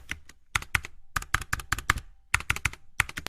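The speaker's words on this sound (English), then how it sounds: "Type the question in the provided box." Keystrokes on a computer keyboard come in quick, close bursts of crisp clicks separated by short pauses as a question is typed, with no one speaking.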